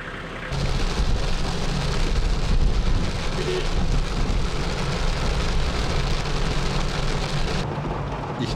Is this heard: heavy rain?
yes